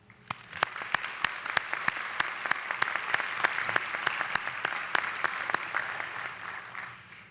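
Applause from the audience at the 2022 Bridgewater College commencement, a steady broadband patter of many hands with sharp individual claps standing out, sustained for the whole stretch and slowly fading at the end.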